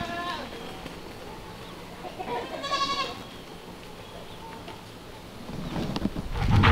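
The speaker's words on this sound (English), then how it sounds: "Lots of goats." Goats on a farm let out a short burst of bleating near the middle, with people talking around them against a steady outdoor background.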